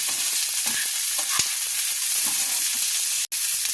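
Capsicum and onions being stirred and lightly fried in a pan, a steady oily sizzle with scraping stir strokes and a brief clatter near the end, no voices.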